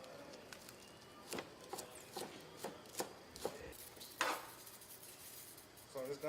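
A knife chops scallion onion on a board in a string of separate, fairly quiet taps at an irregular pace, over faint background noise.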